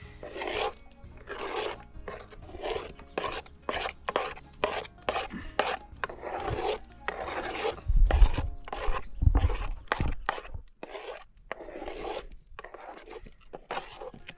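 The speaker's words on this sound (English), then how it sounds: "Just mix so that it becomes a thick dough." Thick homemade bread dough being stirred and mixed by hand in a Zimbabwe village kitchen, giving repeated rough scraping and rubbing strokes in a steady rhythm, close and moderately loud, with no talking.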